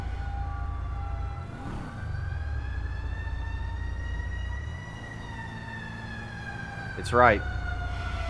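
Emergency vehicle sirens wail in long, sustained rising and falling tones over a low engine rumble, with a sharp warbling burst near the end and a brief spoken remark.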